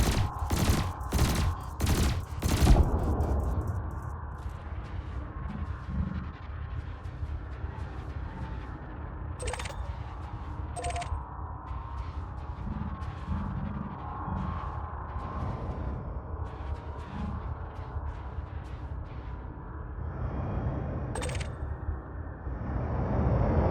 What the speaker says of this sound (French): Ciblez le conteneur sur lequel vous voulez tirer.